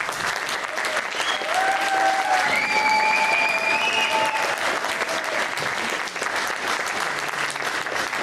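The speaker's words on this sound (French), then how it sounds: "une super grosse main d'applaudissements pour Vanessa" A crowd at a Hydro-Génial gathering applauds Vanessa loudly and without a break for several seconds, with high whistles rising above the dense clapping.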